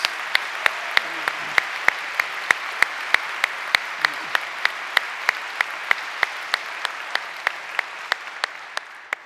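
An audience at a university convocation gives a round of applause for a retiring vice president, a broad, sustained crowd clapping with sharp regular knocks standing out above it, steady throughout and easing slightly at the close.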